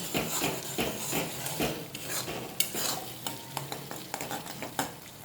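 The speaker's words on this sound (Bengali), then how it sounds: "এবারে ভালো করে কষিয়ে নিই" Chilli powder, Kashmiri chilli powder and cumin powder sautéed in oil in a pan for an onion- and garlic-free paneer kofta curry, with steady close sizzling and repeated sharp scrapes and clinks of a spatula stirring against the pan.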